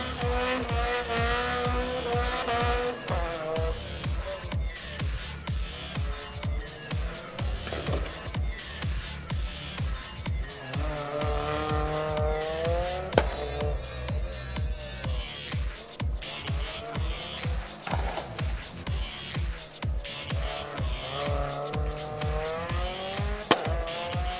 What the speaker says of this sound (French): quand on entend ça, on a les souvenirs de la Renault Clio Super 1600 de l'époque